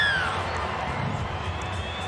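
A steady, distant crowd roar fills the stands at an NRLW women's rugby league match between the Roosters and the Sharks, continuous and fairly soft with no clear peaks.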